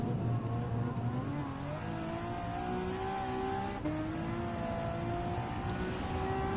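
A Polestar car accelerates hard in a Gran Turismo 7 drag race, its engine tone climbing steadily, dropping briefly at a single gear change, then rising again, loud and continuous throughout.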